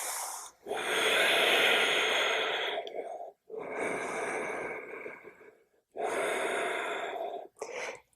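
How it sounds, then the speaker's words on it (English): Slow, audible breaths during a yoga practice, close and airy, in three long exhale-like swells separated by short pauses. "Breathing here."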